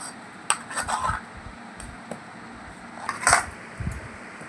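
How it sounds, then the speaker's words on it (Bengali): A spoon scrapes and clinks against a bowl while semolina and potato batter is mixed, with intermittent soft knocks and scraping strokes close by over a quiet background. "তো এবার তিনটে উপকরণ দিয়ে দিয়েছি আবারও আমি মিশিয়ে নেব ভালো করে মিশিয়ে নিতে হবে"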